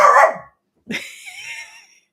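A dog lets out one loud, sharp bark, then after a brief silence a drawn-out whining yelp that trails off, close and clear with no talking.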